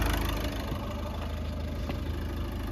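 Car engine held at roughly 2000–2500 rpm under full load during a battery charging test, a steady, loud mid-range drone with constant low rumble and slight vibration, no voices.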